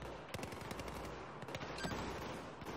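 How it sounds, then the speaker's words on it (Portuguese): Battlefield 4 gunfire crackles in rapid bursts, automatic weapons rattling continuously at a distance, faint and layered over a steady background roar. "O tiro tá comendo no centro aqui."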